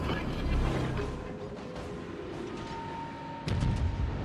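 Naval guns in World of Warships firing on a Shimakaze destroyer: deep booming salvos with rumbling low thuds, one heavy volley at the start and another near the end, amid steady game ambience.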